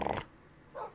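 Angry tamed dogs in a Minecraft dinosaur mod give two short, gruff growls separated by a brief silence. The first is louder and the second softer, with no talk over them.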